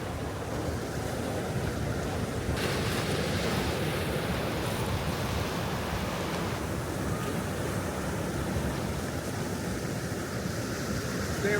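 Steady ocean surf washing ashore at Laguna Beach, a constant broad roar of breaking waves with wind rushing across the microphone, no voices.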